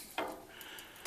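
Wood stove fire, shut right down, crackling and spitting inside a small greenhouse; a few sharp pops and crackles over a soft steady hiss, close by.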